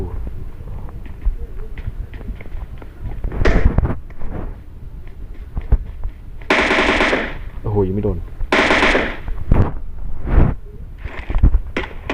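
Bursts of automatic gunfire from the PUBG video game, rapid rattling volleys and single shots spread across the stretch, loud and close, with players talking over parts of it.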